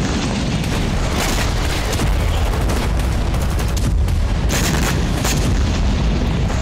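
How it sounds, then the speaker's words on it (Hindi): Explosions from missile and drone strikes on Sevastopol bay in Crimea, a continuous loud roar of booms and rapid crackling blasts layered densely without pause. "बेहद ही प्रचंड अंदाज में यूक्रेन ने सेवास्तोपोल बे को मिसाइलों और ड्रोन से थर्राया।"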